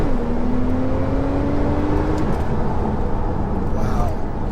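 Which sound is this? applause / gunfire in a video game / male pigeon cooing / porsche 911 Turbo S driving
porsche 911 Turbo S driving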